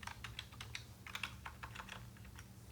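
Steady, rapid typing on a computer keyboard while building a web page in HTML and CSS, close and clear with quick irregular key clicks and no talking.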